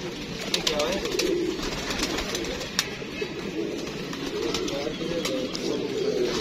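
Pigeons coo continuously at close range, their soft throaty calls overlapping while people talk nearby amid a busy background with scattered chirps.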